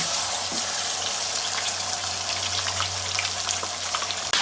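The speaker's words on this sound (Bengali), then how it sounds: "এটাকে আমরা এখন তেলে ভেজে নেব" Whole marinated chicken frying in hot oil in a pan gives a steady, close sizzle with a low hum underneath, continuous and fairly loud throughout with no voices.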